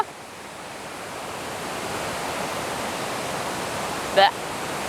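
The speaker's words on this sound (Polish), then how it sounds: "To miejsce jest kanionem, do którego wpada woda z całych okolicznych terenów i tworzy te przepiękne wodospady" Waterfall in a canyon on Java, Indonesia, fed by water from the surrounding land: a loud, steady roar of falling water with one brief sharp sound near the end.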